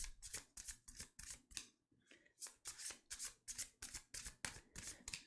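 Tarot cards are shuffled by hand in a quick series of soft, crisp papery strokes, close up and fairly quiet. The rhythm is steady, with a brief pause partway through before the strokes resume.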